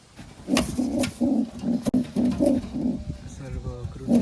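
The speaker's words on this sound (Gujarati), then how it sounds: "જો હવે કબૂતર બેઠા છે અહીંયા આવી રીતના" Pigeons coo in a steady series of low, throaty calls close by, several repeating in rhythm, with faint voices in the background, in a pigeon-keeping setup with a nesting chick.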